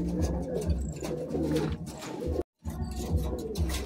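A Madrasi pigeon coos in low, throaty, repeated rolls close by, cut by a sudden brief silence before the cooing resumes.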